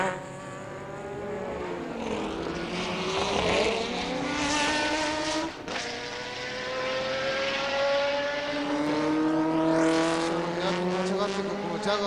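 Porsche and Sauber Mercedes sports prototypes roar past at Fuji Speedway during the 1988 World Sportscar race, engines rising and falling in pitch as they pass, loud and continuous with no other sounds.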